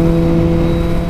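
Suzuki GSX-R1000R motorcycle under aftermarket cruise control accelerating on the road, a steady loud engine drone with strong low tones blended with wind rush, heard close and continuous.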